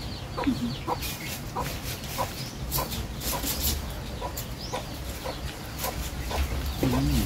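Chickens cluck repeatedly in short bursts against a steady outdoor background in the Philippines, with a few louder calls standing out near the end.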